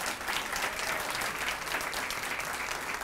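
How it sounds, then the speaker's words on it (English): Sustained crowd applause at a Niagara County political rally, a steady dense wash of many hands clapping at even loudness throughout, with no voices heard. "So can I get a round of applause for her?"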